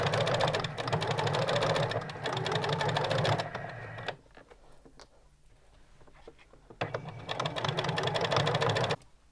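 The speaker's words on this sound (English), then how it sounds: "I'll keep sewing to the end so I can show you" A sewing machine stitches a strip of fabric bunting in two long, loud, steady runs, separated by a quieter pause with light handling sounds.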